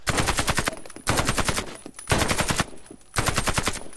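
Sustained bursts of FY 103 machine gun fire in the shooter game Warface, fitted with an assault silencer, loud rapid automatic volleys in four roughly one-second strings separated by short gaps.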